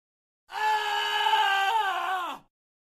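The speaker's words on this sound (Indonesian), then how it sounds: "Pekik sang MC, membuat keduanya langsung panik." In a dramatized audiobook, a man screams in pain from a badly bleeding hand. The single sustained cry lasts about two seconds, then breaks and drops in pitch before it cuts off.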